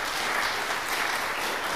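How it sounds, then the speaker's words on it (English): Conference audience applauding a talk about refactoring C code to Rust, a steady dense wash of clapping throughout, fairly close and even in loudness. "So give him an applause again."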